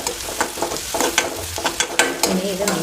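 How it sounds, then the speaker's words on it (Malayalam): Finely chopped green chilli frying in a pan while a spoon stirs it, a steady close sizzle broken by regular scraping clicks of the utensil against the metal, no voices. "ഇനി ഇത് നമുക്ക് ചെറുതായിട്ടൊരു ബ്രൗൺ കളർ ആകുന്നിടം വരെ നമുക്ക് ഇളക്കണം"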